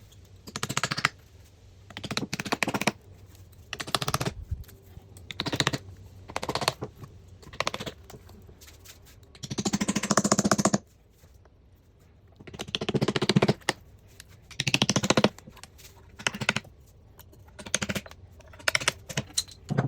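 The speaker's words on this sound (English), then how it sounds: "I like to use wooden wedges to pop mine free" Wooden wedges worked around the edge of a cured epoxy piece to free it from the board, giving bursts of close tapping, scraping and cracking separated by short pauses.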